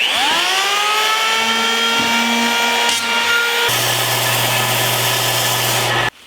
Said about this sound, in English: with the power plane, take off the first 5 inches, then go to 10, and then 15